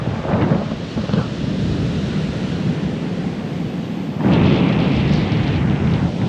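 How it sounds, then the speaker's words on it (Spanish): Strong wind gusts buffet a beach with rough, agitated surf, producing a loud continuous roar that swells even louder near the end, with no voices over it. "Espero me puedan escuchar bien porque está soplando mucho viento. El mar de hecho está muy agitado"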